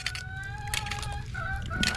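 A rooster crows and chickens cluck close by, several bird calls overlapping over a low rumbling background.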